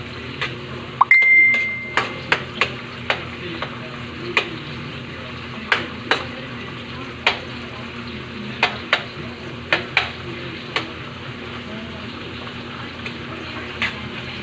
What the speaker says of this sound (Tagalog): Tapos halo-halo natin.